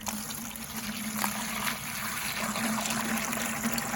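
Water is poured onto chicken manure to make a fertilizer tea, producing a steady, close liquid gush and splash that continues throughout.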